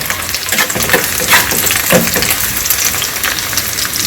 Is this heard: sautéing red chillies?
yes